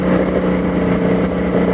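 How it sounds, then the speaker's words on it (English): A duct cleaning vacuum compressor pulling deep negative pressure runs as a steady, loud, low droning roar with a constant hum and no talking. "You can hear the compressor in the background."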